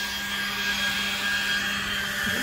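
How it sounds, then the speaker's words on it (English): A leaf blower runs steadily nearby while leaves are cleared, giving a continuous airy roar with a constant motor hum and no pauses. "The blower."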